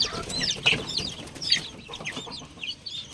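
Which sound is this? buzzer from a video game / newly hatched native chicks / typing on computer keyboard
newly hatched native chicks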